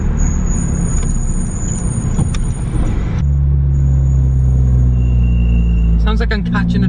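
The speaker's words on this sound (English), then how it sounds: "It's also got DBA discs and PBS pads, which I can't believe how noisy these things are." High, piercing brake squeal from DBA discs and PBS pads on a modified Honda Civic Type R rings over a loud engine rumble, holding steady then cutting out, with more chattering squeals near the end.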